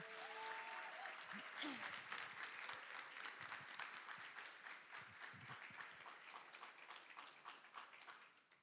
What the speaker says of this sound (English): can you please join me in just giving a huge round of applause to everyone who made this happen?